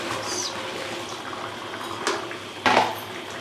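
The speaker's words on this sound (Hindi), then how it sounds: "अब हम इसमें चावल शामिल कर देंगे।" Rice is added to a pot of boiling water with vegetables for chana pulao, a continuous close bubbling hiss followed by a sharp splash and clatter as the grains go in.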